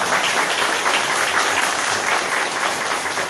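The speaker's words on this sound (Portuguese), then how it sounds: "eu queria pedir ao Vanazzi uma grande salva de palmas para a gente começar" A loud, sustained round of applause from an audience at a civic event with the mayor and councillors present fills the space evenly, a dense rush of many hands clapping with no voices on top.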